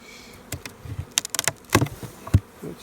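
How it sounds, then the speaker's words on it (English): Live bees buzz inside an opened beehive during cleanup. A thin insect drone runs under sharp knocks and scraping clunks from the hive being worked. "There's live bees in there anyways"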